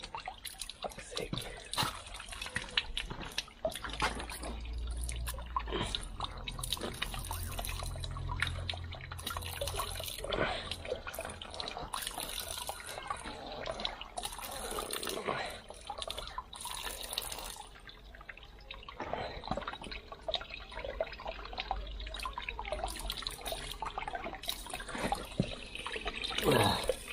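Water squirts and splashes from an open pipe during a plumbing repair, a continuous wet hiss and spatter with irregular bursts and drips, close and fairly loud throughout.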